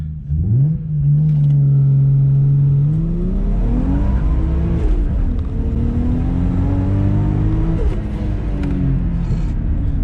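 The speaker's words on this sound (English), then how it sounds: "so I'll accelerate up to 80" A turbocharged car accelerates toward 80 km/h, the engine note climbing in pitch through gear changes, loud and close with a continuous whirring drone and no speech.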